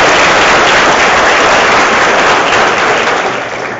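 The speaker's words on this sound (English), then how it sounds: "Give him a round of applause." An audience at a school gathering breaks into applause, a loud, dense, continuous wash of clapping that holds steady and eases slightly at the end.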